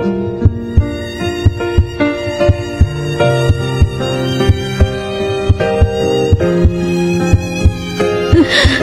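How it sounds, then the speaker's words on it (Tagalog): A human heartbeat being listened to: steady, evenly spaced soft thumps repeat throughout under sustained tonal music. "Pwede ko bang marinig ang tibok ng puso mo?"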